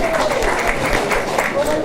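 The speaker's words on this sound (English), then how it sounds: "Massive round of applause." A large gathering at a Hindu temple claps in a round of applause, a steady dense patter of hands with a few faint voices mixed in, heard close and continuous.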